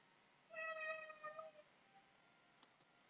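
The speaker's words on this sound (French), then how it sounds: "il y a mon chat qui miaule" A house cat gives a single drawn-out meow, faint and fairly close against a quiet background, followed by a tiny click a moment later.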